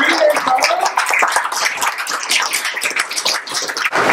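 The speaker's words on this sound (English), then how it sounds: "let's give one final round of applause to all of our partners here" Loud, close applause from an audience after a faculty panel, dense overlapping claps that stay strong for several seconds before easing slightly.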